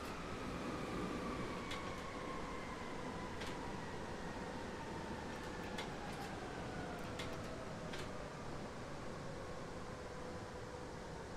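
A subway train from the SubwaySim 2 Gisela DLC runs steadily, its faint, even rolling rumble and hiss carrying a slowly falling tonal whine, with occasional light ticks and clicks along the way.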